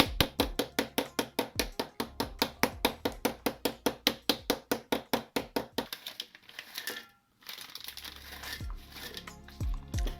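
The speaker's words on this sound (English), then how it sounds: "And now break some dark chocolate." Dark chocolate being broken by hand for ganache, a fast run of crisp snaps and cracks in steady rhythm, close and clear, followed by softer crinkling and rustling handling sounds with no talk.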